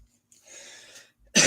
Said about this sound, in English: Did not cough on the jewelry or myself.